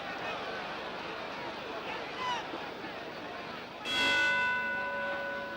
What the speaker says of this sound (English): there's the bell to end the first round